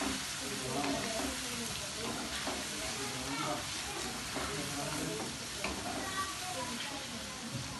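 Garlic ginger paste sizzling in a hot pan while it is stirred, a steady close hiss with scraping stirs throughout, no talking.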